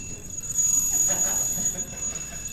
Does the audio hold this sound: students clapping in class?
no